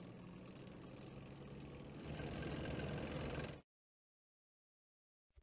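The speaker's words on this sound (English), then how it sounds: "Tank." A military tank engine idles with a heavy, continuous rumble that grows louder partway through, then stops abruptly, leaving silence before a short burst of sound at the end.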